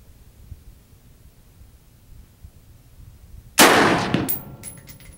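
A single loud, sharp shot from an AR-15 rifle with a 16-inch bull barrel, fired outdoors after quiet background, with a brief ringing decay and no talking.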